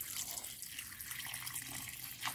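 Water pours steadily into a cooking pot nearby for pasta, a continuous soft splashing gush with no pauses.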